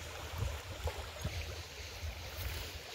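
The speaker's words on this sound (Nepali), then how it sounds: "कल कल कल कल बग्ने खोला" A river stream rushes steadily outdoors as a soft, continuous low gurgling wash with small splashy pulses.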